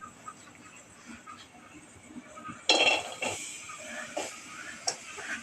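Chopped onion dropped into a hot pan of spiced crab masala for a spicy crab curry, giving a sudden sizzling burst followed by scattered clinks and scraping, fairly close and without talk.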